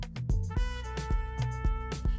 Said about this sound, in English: Sax sounds like this.